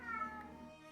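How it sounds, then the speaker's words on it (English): An indoor cat meows in one drawn-out, steady, fairly close cry that lasts the whole second with no talk over it. "The longer you meow, the longer it takes, cat."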